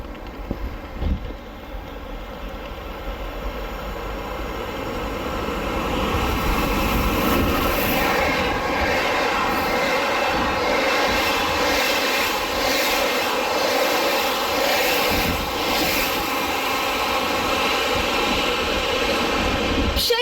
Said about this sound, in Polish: jedzie pociąg Intercity Kossak